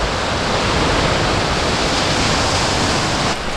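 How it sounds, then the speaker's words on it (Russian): Sea waves wash steadily onto the shore at Simeiz in Crimea, a loud, continuous broadband roar of surf with no speech, holding even for the whole stretch before easing slightly at the very end. "Море."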